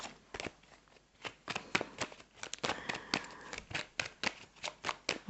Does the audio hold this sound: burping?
no